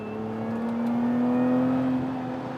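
Lotus Emira sports car driving on a race track, a steady, moderately loud engine drone whose pitch climbs gradually and then eases off, with no voices.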